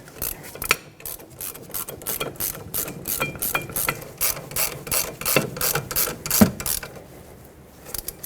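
Rapid ratchet clicking in repeated bursts as caliper bracket bolts on a 2006-2010 Hyundai Sonata are run down during a rear wheel bearing and hub replacement, close and steady with brief pauses between strokes.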